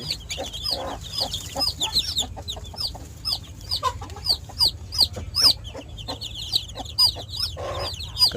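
Hens on a small backyard poultry farm cluck and squawk in a busy, repeated chorus, close and lively, with a few louder calls over a low background hum.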